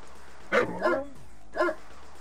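A dog unit dies in the Command & Conquer Red Alert video game, heard as a few short yelping cries with a whimper, three bursts over about two seconds at moderate level.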